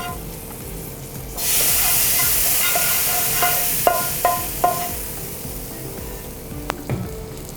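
Papaya curry in a pan bursting into a loud close sizzle as oil hisses with chili powder added, the hiss rising suddenly and holding, with a few sharp clinks of a utensil against the pan.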